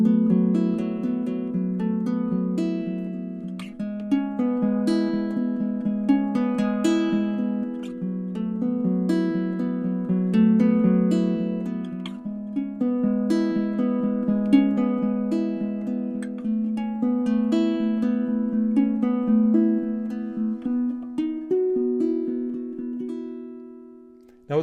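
Baritone ukulele picked fingerstyle in a slow, drifting piece, with a low drone string ringing steadily under the melody notes; close and clear, alone throughout.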